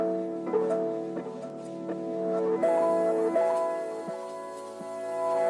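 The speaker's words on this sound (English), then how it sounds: "So I just simply reversed the duplicates of the sample chops," Reversed duplicates of chopped music samples with a little delay, sustained tonal chords that swell and fall in reversed envelopes, shifting chord partway through, with echoing repeats and no voices.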